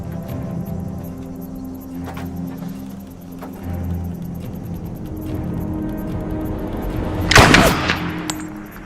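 Gunfire in a sci-fi action film scene: a sharp, loud shot bursts out near the end over a low background rumble, with faint earlier cracks.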